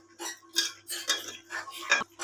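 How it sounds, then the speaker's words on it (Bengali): Fish pieces for a bottle gourd curry go into a pot of simmering masala and get stirred, giving repeated metallic clinks and scrapes of a utensil against the pot in uneven bursts, close and moderately loud. "এখানে মাছগুলো আমি দিয়ে নাড়া দিয়ে দিব এখন ভালো করে।"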